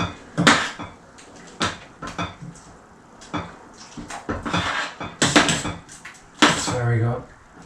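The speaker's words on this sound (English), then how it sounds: "Give that a stir around." Stirring chickpeas into a spicy Mexican bean soup in a pot, with repeated sharp scrapes and clanks of a utensil against the pot, loud and close, coming in irregular bursts with a little talk between.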